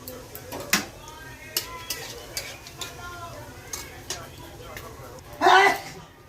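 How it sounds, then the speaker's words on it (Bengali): Whole garam masala, cumin seeds, bay leaf and dried red chilli crackle in hot oil for a soybean curry, with light pops and clinks of a utensil against the pan, then a louder burst of sputtering near the end as talk continues over it. "তেল গরম হয়ে গেছে, গরম মশলা, গোটা জিরে, তেজপাতা, শুকনো লঙ্কা ফোড়ন দেব।"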